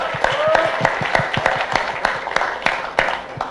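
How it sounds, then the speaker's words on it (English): Round of applause from an audience at a volunteering and social enterprise talk, scattered individual claps mixed with a softer crowd patter, fairly close and uneven in rhythm. "Give a round of applause to everyone here."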